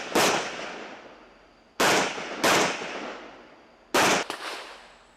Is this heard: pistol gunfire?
yes